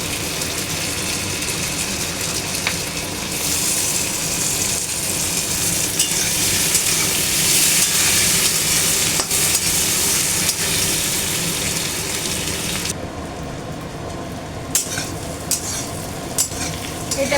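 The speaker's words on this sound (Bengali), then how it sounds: "এটা প্রায় ভাজা হয়ে এসছে" Tomatoes and capsicum fry in hot oil for a double-yolk egg curry, a continuous sizzle under steady stirring and scraping in the pan, which thins out toward the end with a few sharp utensil knocks.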